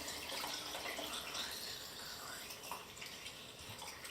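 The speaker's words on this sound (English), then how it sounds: "then we pour in Photo Flow" Photo Flow solution is poured over film in a developing tank during E6 processing, a soft, steady rushing trickle of liquid that continues evenly throughout at low volume.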